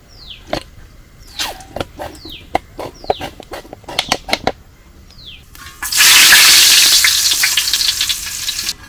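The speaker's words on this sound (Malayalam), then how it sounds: "നമ്മൾ ചട്ടി വെച്ചിട്ട് നമുക്ക് അത് എണ്ണ ഒഴിച്ച് കൊടുക്കാം." Oil in a pan for a Kerala village-style sea crab roast: a few sharp clicks and bird-like chirps, then a sudden loud, sustained sizzle that gradually settles as frying continues.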